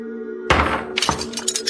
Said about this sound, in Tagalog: Nagulat ako nang marinig ang malakas na pagbagsak ng kung ano sa likuran.